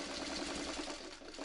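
A sewing machine stitches a French seam on a burrito-style tote bag, a steady close rapid mechanical whirr running throughout without pause.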